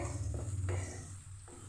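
Onions sizzle in a wok as green chillies go in, with a steady close frying hiss and a few stirring scrapes of the spoon against the pan.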